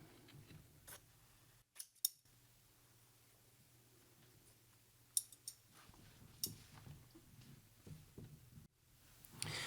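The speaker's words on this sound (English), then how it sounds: "we're going to cut off this 1 inch fold" Scissors snip through a one-inch fabric fold at a bodice neckline during dress draping, a few quiet, separate clicks and cuts against a low background hum, with brief pauses between them.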